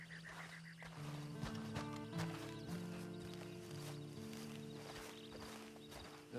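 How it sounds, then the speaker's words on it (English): Horse hooves clip-clop in Red Dead Redemption 2, with a steady train of soft hoof taps under a sustained low game music tone and faint background ambience. "you better get on this horse"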